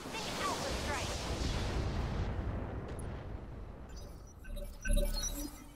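Mech weapons firing in the Roguetech battle game, a dense rumbling barrage of blasts and crackling impacts that holds steady, then fades into scattered pops with one sharper hit near the end.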